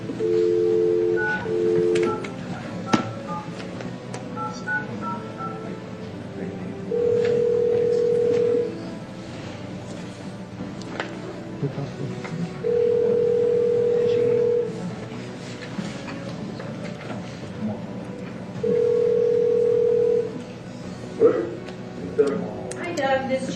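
A conference phone line is dialed into during a city planning commission meeting, with three separate steady dial-tone bursts spaced several seconds apart and a quick run of dialing beeps early on, all under a low murmur of room chatter.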